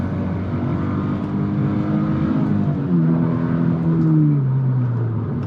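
Engine of a Subaru BRZ/Toyota 86 on Wedssport TC105X wheels and Continental ExtremeContact Sport tires, pushed into a corner; a close, steady harmonic drone that holds pitch and then sweeps downward as the car slows.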